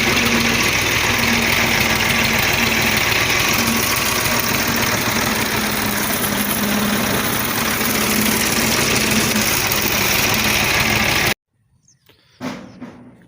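A tractor engine runs loud and close in a village setting with a steady, low, throbbing idle for most of the stretch, then cuts abruptly to near quiet with a few faint knocks.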